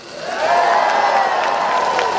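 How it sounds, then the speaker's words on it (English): A large outdoor rally crowd against racism cheers loudly and steadily, a dense wall of voices with scattered whoops and clapping that swells and then holds. "Please give them a massive cheer"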